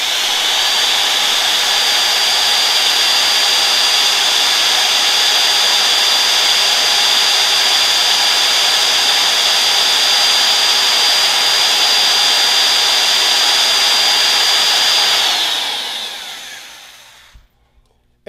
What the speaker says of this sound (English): Turn on the drill again, and let's see what it does.